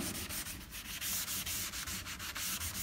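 Steady back-and-forth scrubbing of an abrasive pad across a stripped bungalow door, a rhythmic rasping swish repeated many times, close and clear.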